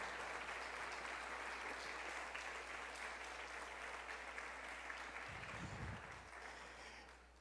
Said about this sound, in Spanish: Dele un aplauso al Señor con todo su corazón, todas sus fuerzas